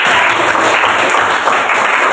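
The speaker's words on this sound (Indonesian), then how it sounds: "Kita tepuk tangan sekali lagi" A room full of people claps together in a dense, continuous round of applause with no speech over it, in a biology classroom lesson.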